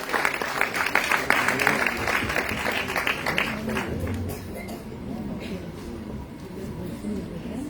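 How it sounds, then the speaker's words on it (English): Audience applause at a dance recital, a Salangai Poojai, fills the hall: dense, continuous clapping that is loudest at the start and then gradually thins and fades toward the end. "Please give her a round of applause"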